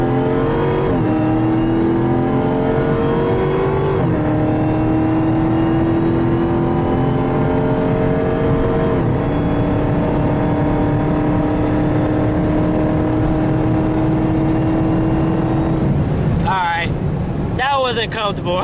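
A Dodge Charger Hellcat accelerating hard toward top speed, a loud steady engine drone climbing in pitch through several gear changes, heard close from inside the car.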